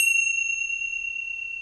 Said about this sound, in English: the tingsha can make a lot of noise